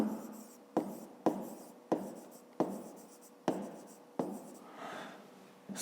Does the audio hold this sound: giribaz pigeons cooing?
no